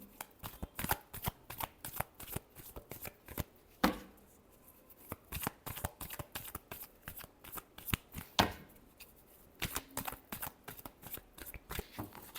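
Tarot cards shuffled by hand in quick, repeated riffles and slaps, close and crisp, with two sharper snaps between runs.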